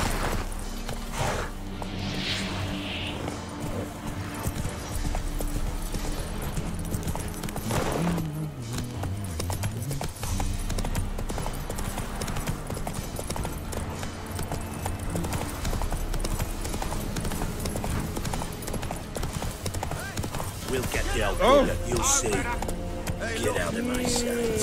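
Horse galloping in The Witcher 3 video game, a loud continuous hoof clip-clop with an occasional whinny, mixed with in-game music and ambient voices.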